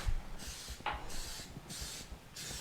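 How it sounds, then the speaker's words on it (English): Cooking spray hisses from a can onto bundt pans in a kitchen, four or five short, even bursts spaced about half a second apart, fairly quiet and close with no talking. "And what you're going to do is just spray your bundt pans."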